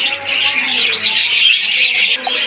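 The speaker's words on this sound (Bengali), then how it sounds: "এখানে রয়েছে ডিমে বসা অবস্থা এক জোড়া অস্ট্রেলিয়ান ঘুঘু পাখি" A pair of caged Australian diamond doves sitting on eggs, giving soft low cooing calls steadily through the moment, with faint chirps and bright background noise around them.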